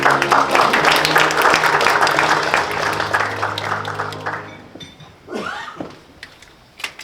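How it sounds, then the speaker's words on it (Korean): Applause from a forum audience in a hall in Pyeongtaek, dense and steady at first, then thinning into a few scattered claps and faint room noise as it dies away. "뜨거운 박수로 모시겠습니다."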